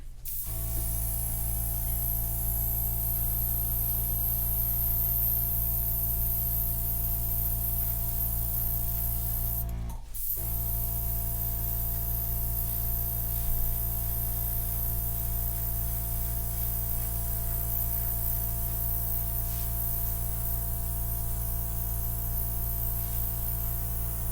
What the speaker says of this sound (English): You can airbrush with it as well.